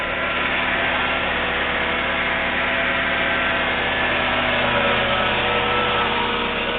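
A repaired engine runs at a steady idle, a constant dense hum and rumble at even loudness with no change in pitch and no talking.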